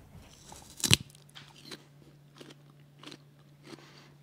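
A single sharp crunchy bite into a Korean chamoe melon close to the microphone, followed by quieter chewing crunches at a slow, uneven rhythm.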